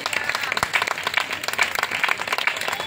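A church congregation applauds with dense, fairly close clapping throughout, while a voice speaks over it.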